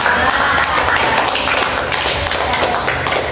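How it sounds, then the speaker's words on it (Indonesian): An audience gives dense, steady hand clapping for a participant who has just answered a question at a discussion session. The clapping is loud, close and continuous from start to finish. "Tepuk tangan buat Mbak Arifah."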